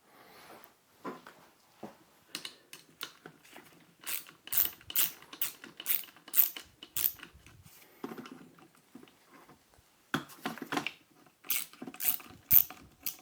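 Bolts being worked loose on a 1/6 scale Armortek Panzer III Ausf. L tank model, heard as close, quiet bursts of ratcheting metallic clicks separated by short pauses.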